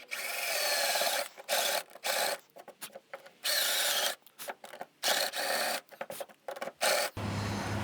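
A power drill boring holes about 2 millimeters deep whirs in repeated bursts of grinding, rasping noise, starting and stopping several times, close up, with a lower hum at the end.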